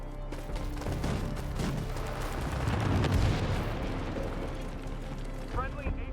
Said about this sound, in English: Enemy airstrike fast approaching